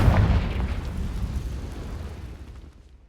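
A Confringo blasting spell from Hogwarts Legacy goes off with a loud, booming explosion, then rumbles and fades away over a few seconds with no voices.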